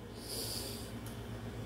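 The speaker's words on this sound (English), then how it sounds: "Take a deep breath." A single deep breath, a long steady airy inhale held close to the microphone with a slight nasal snort quality, filling the whole moment without talking.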